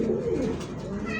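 Two pet pigeons at a pigeon seller's make soft, low, throaty cooing up close, steady and unbroken, with no talking.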